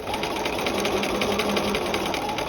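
A sewing machine runs in one continuous close burst, its needle chattering rapidly while stitching a dart on a jacket front.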